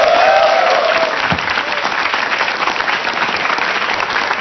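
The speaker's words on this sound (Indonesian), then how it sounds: "Tolong tepuk tangan untuk teman saya." Loud, dense audience applause on a talk show welcoming a guest, a steady wash of clapping that continues throughout with a brief voice near the start.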